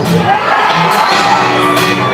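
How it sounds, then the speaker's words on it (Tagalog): Large political rally crowd shouting, whooping and cheering loudly, a dense continuous roar of many voices throughout with scattered individual yells rising above it. "Sigaw na may kasamang tayo at hiyaw na napakalakas."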